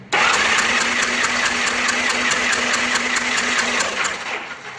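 A Honda Goldwing GL1200 engine from 1986 cranks steadily on the starter for about four seconds during a compression test, with a fast, even churning rhythm that is loud and close and then stops.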